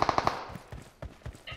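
Distant gunfire from players fighting a boss in PUBG Metro Royale: a quick burst of four sharp shots at the start, then scattered softer thuds and footstep-like knocks, fairly quiet overall.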